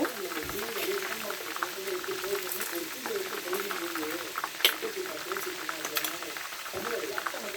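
Tomatoes sautéing with rock salt in a pan for mutton biryani, a steady soft sizzle and bubbling that runs throughout beneath a person talking.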